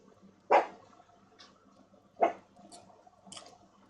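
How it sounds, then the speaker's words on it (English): A dog gives two sharp, close barks about a second and a half apart, with faint small yips and clicks in the quiet between them. "But what are you woofing about?"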